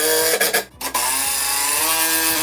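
A power drill drives 3-inch screws into a wooden cross rail for a play-area shop worktop, with a steady, close motor whine that stutters briefly near the start and then holds continuously.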